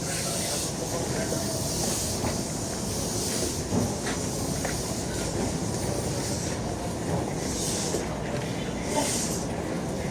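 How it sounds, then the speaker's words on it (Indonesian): Tanah Abang train station, busy and crowded in the morning: a dense, continuous roar of trains and crowd noise with hissing bursts and faint rail clatter, steady and fairly loud throughout. "Ini dia suasana stasiun Tanah Abang di pagi hari, padat."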